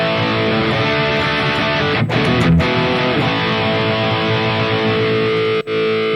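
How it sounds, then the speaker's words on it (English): A distorted electric guitar through a JOYO Gembox K8's Marshall 800 overdrive plays sustained chords with a thick, gritty tone, with a couple of brief pauses in the ringing. "it features the Marshall 800 overdrive and a cap block."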